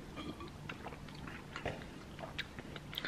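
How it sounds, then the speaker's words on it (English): Someone chews a crunchy cinnamon toast crunch granola bar close to the mic, quiet irregular crunches and bites over a soft background hum. "m waiting for Keilly again, like always, but my breakfast is this cinnamon toast crunch granola bar"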